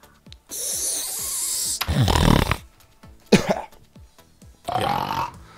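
Someone imitates snoring with the voice, making several loud, rasping, snorting bursts separated by short pauses, close to the microphone.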